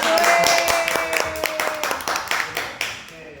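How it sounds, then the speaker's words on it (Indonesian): An audience at a podcast recording claps in a run of crisp, evenly spaced claps that gradually thin out and fade, with talking around them. "Berikan tepuk tangannya."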